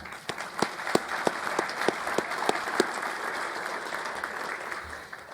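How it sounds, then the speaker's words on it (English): A conference audience at a cybersecurity panel session gives steady applause, a dense wash of many hands clapping at moderate distance, with a few louder claps near the front at first before it gradually thins out. "Please give him a round of applause."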